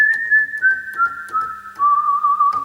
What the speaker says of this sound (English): we should have the whistle up here